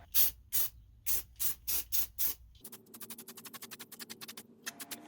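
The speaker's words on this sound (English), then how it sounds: "go ahead and spray paint it with flat black" Several short, sharp bursts of flat black aerosol spray paint in a quick series, followed by a faster run of lighter spritzing hisses, all close by.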